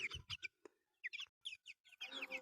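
Twenty-day-old chicks, some resembling broilers, cheeping in quick, high-pitched bursts, several peeps close together with short pauses, fairly near and clear.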